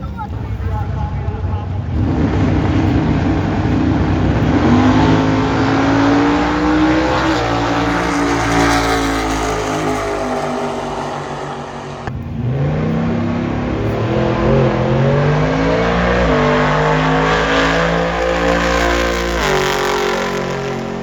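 Race cars roar past at a car race, loud engines rising and falling in pitch through two long passes, close and dominant throughout.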